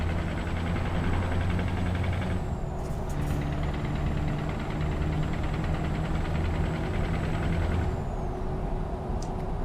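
A heavy truck engine in Euro Truck Simulator 2 drones steadily and loudly under a thin high whine, with a brief airy hiss midway and no voices over it.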